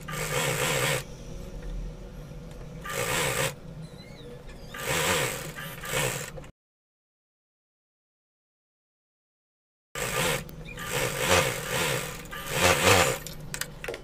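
Electric sewing machine stitching a double seam on gharara fabric, running in bursts of steady whirring with short pauses, then a few seconds of total silence before the stitching resumes.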